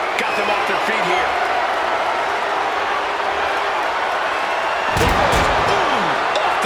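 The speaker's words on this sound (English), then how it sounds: "You heard the thud on the steps." Heavy body slam onto steel ring steps in the WWE 2K26 video game, a loud impact thud bursting out around five seconds into constant crowd roar with commentary over it.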